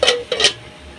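A lid comes off a pot of cooking Maggi noodles with tomato and carrot, two quick close metallic scrapes and clinks within a second, then a faint hum of the stove.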